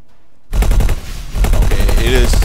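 A space station's turrets fire in the video game X4 Foundations as loud, rapid bursts of repeated shots that start abruptly and continue steadily, with a faint voice in the background.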